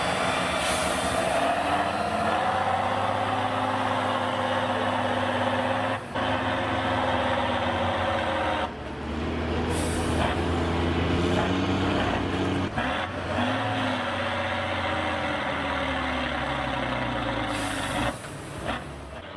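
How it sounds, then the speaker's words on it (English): A TATRA 813 8x8 heavy truck powers through sand pits, its engine a loud, steady droning rumble that holds throughout with slight shifts in pitch as it works through the sand. "With an 8x8 wheel system, TATRA 813 is able to easily overcome sand pits."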